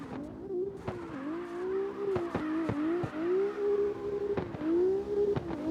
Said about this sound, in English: Man, this BMW can carry so much angle, but look at the momentum it's keeping up.